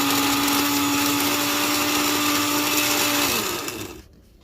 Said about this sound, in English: scotch bonnet, green chili, my scent leaf, and my bitter leaf. I'm going to blend all of this.